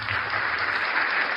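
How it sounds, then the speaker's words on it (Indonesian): Applause from a church congregation, steady and fairly loud throughout the brief moment, with no voices standing out. "tepuk tangan untuk Yesus"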